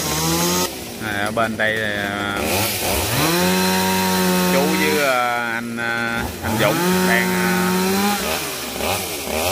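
A chainsaw revs and bogs repeatedly while cutting a mù u tree trunk into firewood in a garden, loud and close, with people talking over it.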